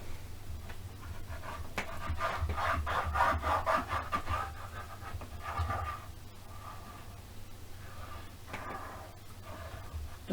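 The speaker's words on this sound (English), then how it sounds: "Let's fold and burnish." Folded paper for a handmade box is rubbed firmly with a burnishing tool, producing soft, repeated scraping strokes at close range, faint and irregular.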